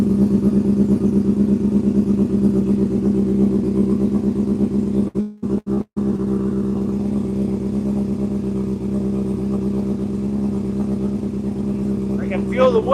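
A motorcycle engine idles with a steady, deep drone after a cold start, with a brief cut in the middle before the even running resumes; a faint higher sound enters near the end.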